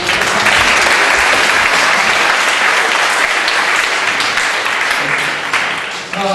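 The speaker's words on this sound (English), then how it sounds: "You can applaud." Loud, dense applause from a conference audience at an awards presentation, sustained and close throughout, tapering slightly near the end.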